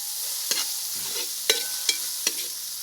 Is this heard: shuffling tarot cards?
no